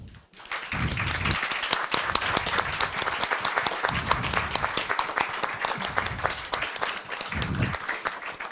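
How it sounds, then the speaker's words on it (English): Warm audience applause at an award ceremony for digital business model innovation in Swedish industry, dense and sustained clapping at even strength throughout, without speech. "please welcome on the stage with a warm applause"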